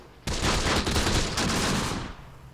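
Enemy rifle grenades and gunfire in Close Combat: The Bloody First: a sudden blast opens a sustained rattling volley lasting about two seconds, with a second surge midway before it fades.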